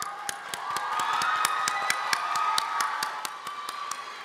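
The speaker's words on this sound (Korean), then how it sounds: "우리 팬 여러분을 위해서 박수 한번 칠까요?" Audience at the 2009 Golden Disk Awards ceremony claps in a steady, evenly spaced rhythm through the whole stretch, with a sustained crowd and cheering wash underneath and no talk over it.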